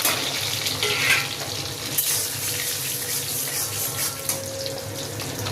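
Cashews and raisins frying in hot oil for festive fried rice, a steady close sizzle and crackle running throughout with a few brief louder spits, no voices.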